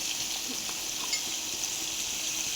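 Ginger, garlic and onion paste sizzles steadily in hot oil in a wok, a close, continuous hiss with faint stirring underneath.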